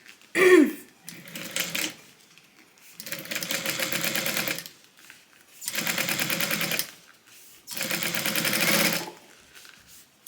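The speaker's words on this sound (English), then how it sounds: "we're gonna go ahead and just get this sewn up" Sewing machine stitching the folded body of a tote bag in three separate runs of steady, rapid needle clatter, each several seconds long, with short pauses between and a brief handling noise at the start.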